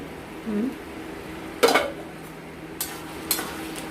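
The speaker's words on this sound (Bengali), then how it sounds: "এবার আমরা ঢাকনা খুলে দেখবো।" A metal lid comes off a cooking pot of hilsa fish head with taro leaves, giving a sharp clatter followed by a couple of lighter clinks against a quiet kitchen background.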